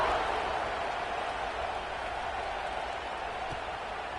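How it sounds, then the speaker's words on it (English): Steady crowd buzz fills a stadium in an NCAA college football video game after a score, a dense, even roar that holds without break at moderate level. "this crowd is buzzing after that last score"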